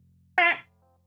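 A human voice imitates a cat that honks, giving one short, nasal, honk-like meow close to the microphone against a quiet background.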